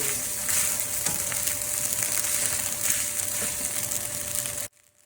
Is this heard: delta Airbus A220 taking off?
no